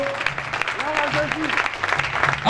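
A church congregation applauding and cheering during a French-language evangelical service, steady clapping and crowd noise filling the room while a voice rises over it.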